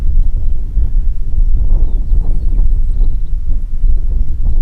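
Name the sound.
strong side wind, about 20 miles per hour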